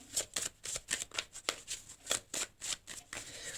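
Tarot cards being shuffled before a draw, a quick run of crisp riffling slaps in a steady rhythm, close and fairly quiet, with no talk.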